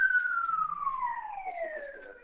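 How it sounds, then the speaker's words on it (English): An ambulance siren wails with a falling, drawn-out tone, clear and fairly close, fading slightly as it sweeps down. "You can hear the siren there"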